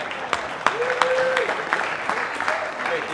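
A live audience claps for Coco, a short burst of dense applause with a few sharper individual claps standing out and a whistle-like tone sliding through it.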